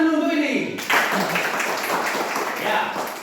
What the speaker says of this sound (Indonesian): Tepuk tangan dulu untuk Willy.